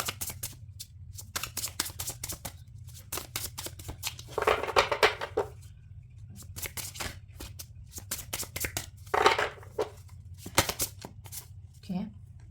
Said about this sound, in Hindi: चलिए लेट्स शफल इट अगेन।